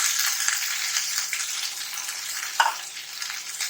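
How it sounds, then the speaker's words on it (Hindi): Cut potatoes for dry-style vrat aloo hit a hot pan and sizzle, giving a steady, bright frying hiss with a small clink partway through, with no voices. "इसमें हम सारे कटे हुए आलू डाल देंगे।"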